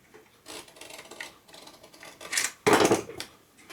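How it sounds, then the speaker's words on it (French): A blade saws and rasps through material for a homemade durable fin, several short scraping strokes building to a louder harsh cut near the end, close and alone. "Et là, je découpe."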